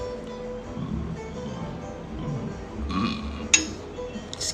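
A short, low burp rises out of steady background noise midway through, followed by a brief sharp click.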